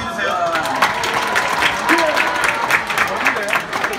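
High school students applaud during a school assembly. Dense, steady clapping fills the hall for the whole stretch, with a murmur of crowd voices underneath.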